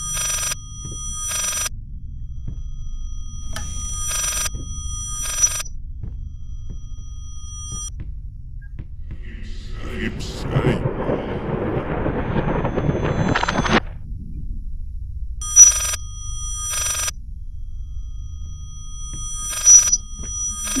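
An old telephone rings in the horror video game Layers of Fear, a bright, close trilling ring in repeated paired bursts at the start and again near the end, with a louder murky rumble of game sound in between.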